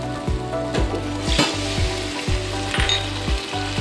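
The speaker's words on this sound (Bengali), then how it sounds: "পোস্তটা মোটামুটি আমার ভাজা হয়ে গেছে, তেলে একটু একটু করে ছেড়েছে। এবার আমি দিয়ে দিচ্ছি গরম জল।" Hot water hits poppy seed paste frying in oil in a pan, giving a steady hissing sizzle broken by regular rhythmic scraping clicks of a utensil stirring.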